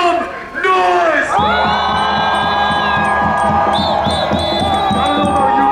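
A large crowd at a pro-Palestine rally in Celebration Square, Toronto, cheers, whoops and screams loudly and continuously, with sustained high-pitched yells rising over a dense roar.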